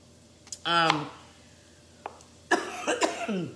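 A person coughs a few times nearby, separated by short pauses, with a couple of harsher coughs bunched together at the end.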